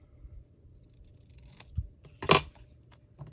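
Scissors snip a paper tag for a journal page, a few quiet cuts with one sharper, louder snip near the end, close in a quiet room without talk.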